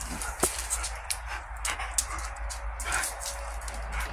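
A husky whimpers and yips softly at dinner time indoors, short faint cries scattered over a low steady hum with a couple of sharper clicks.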